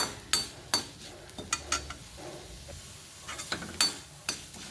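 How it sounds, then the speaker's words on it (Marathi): Dal (lentils) dry-roasting in a pan while making curry leaf chutney: a quiet, steady rustle with a series of sharp scraping clinks from a spatula stirring it, irregular and close, with no talking. "ही डाळ पण आपल्याला चांगली खरपूस भाजायची"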